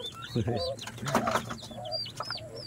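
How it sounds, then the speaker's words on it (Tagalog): Turkey poults chirp with high, repeated peeps, mixed with other bird calls and clucks from a nearby hen, while a person talks close by. "So pabo yun, pabo. Yan, masisiw na, oh."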